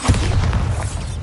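A Bombarda spell explodes in the Hogwarts Legacy video game, a single deep, loud boom with a heavy low rumble that carries on steadily for about a second.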